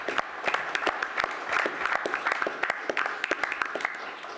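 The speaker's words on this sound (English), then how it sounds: "if we could give him a round of applause" Audience applause at a utility committee meeting, a thin scattering of distinct claps from a small group, moderately close and steady for the full length.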